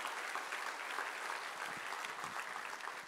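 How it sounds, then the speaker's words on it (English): A church congregation applauds steadily during a Christmas Sunday service, a dense, sustained wash of clapping from many hands that holds at an even level for the whole stretch. "And clap your hands for you, church."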